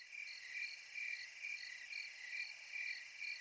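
Crickets chirp in a steady, rhythmic pulsing trill, high-pitched and fairly faint, repeating evenly with no voices over it.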